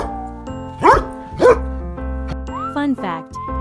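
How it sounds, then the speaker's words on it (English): A dog barks a few times, loud and close, in two sharp barks followed by a whining, yelping call, set against a steady tonal background. "It's a dog."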